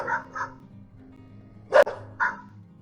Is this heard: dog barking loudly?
yes